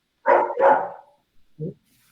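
A dog barks twice in quick, loud succession, then gives one shorter, softer bark after a brief pause, close by and alone.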